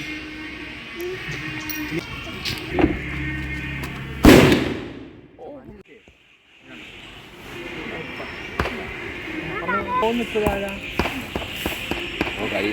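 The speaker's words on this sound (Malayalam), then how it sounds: "വെടി വഴിപാടിന് കൊടുത്തേക്കാം" Firecracker blasts set off as an offering at a family temple at Mannadi Devi in Kottarakkara, Kerala: one loud nearby bang fading away, a later sharper crack, and faint ambient noise between.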